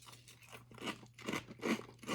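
Candy corn Chex cereal, sugar-glazed pieces, crunched in the mouth: a few loud, close bursts of chewing in irregular rhythm with quiet gaps between bites.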